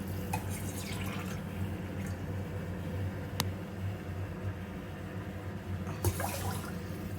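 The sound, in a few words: water poured onto washed rice for tomato bath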